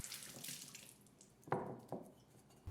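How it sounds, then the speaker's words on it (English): Water splashes and trickles briefly as a hand is rinsed during pizza dough making in a kitchen, faint and close, with a few small splashes and no talk. "Rinse one hand in water."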